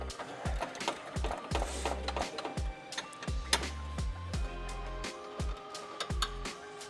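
Tool removing two 10mm bolts from a front bumper bracket on a 5th-generation Toyota 4Runner (2010-2024); a close, steady run of quick mechanical clicks and ticks with short metallic knocks, no talking.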